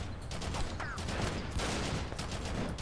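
A turret in the video game HAZE fires on a beach resort level, producing dense, continuous rapid gunfire that stays loud and unbroken throughout, with faint background clatter.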